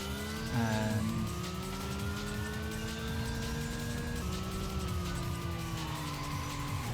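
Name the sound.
car driving in a video game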